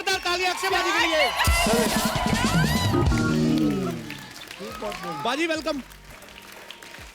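A studio audience on a comedy talk show breaks into strong applause for the actor Akshay, a loud, dense burst of clapping under a host's voice that fades as talk resumes.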